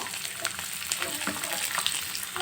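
Chopped onion and tomato, with a few cashews, frying in a pan with a steady close sizzle and soft stirring scrapes throughout, with no speech.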